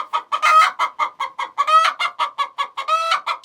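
An agitated hen clucks loudly and insistently inside a deep-litter chicken coop, a rapid run of about a dozen harsh squawking calls close by, some stretched into longer complaining cries, with no talk.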